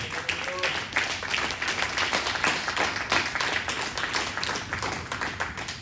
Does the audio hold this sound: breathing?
no